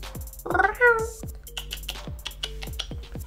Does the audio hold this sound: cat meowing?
yes